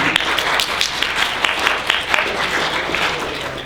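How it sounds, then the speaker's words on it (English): Audience at a fan convention panel gives a scattered, sustained round of applause, steady clapping filling the room for a few seconds with no talk over it. "so he gets a minor applause"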